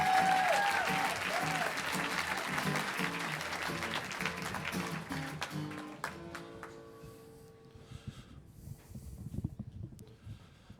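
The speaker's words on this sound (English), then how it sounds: "Big round of applause for Steve as he comes on up." An audience claps warmly for a storyteller walking onto the stage, loud and dense at first, then thinning and fading out over about ten seconds.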